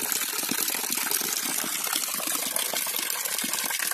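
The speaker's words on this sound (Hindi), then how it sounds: "ये कितना सुंदर पानी गिर रहा है" Water pours steadily from a waterfall at the Dhanpuri tourist spot in Shahdol district, a dense continuous rush and splash, close and fairly loud throughout with no voices.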